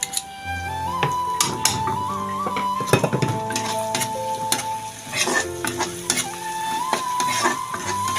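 Ginger and garlic stirred into hot oil in a frying pan for an Assamese fish dish, with steady sizzling and repeated scraping and clinking of a spoon against the pan throughout, close and fairly loud.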